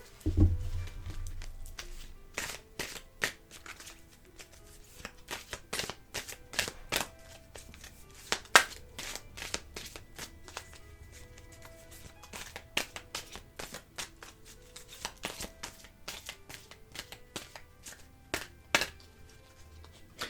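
Tarot cards being shuffled and laid down, a long series of sharp, close taps and riffling flicks in irregular bursts against a quiet background, with occasional faint speech.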